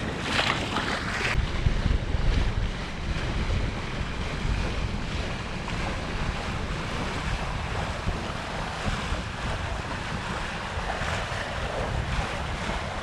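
A Hallberg Rassy 54 sailboat sails off the coast of Eleuthera in the Bahamas in 10-12 knots of wind, with a steady roar of wind and rushing waves filling the whole stretch and heavy gusts buffeting the microphone.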